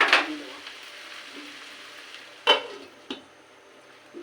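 Taro greens cooking with shrimp in a pan, stirred with a few scraping clatters over a low steady sizzle, one sharp knock early and two more spaced near the end.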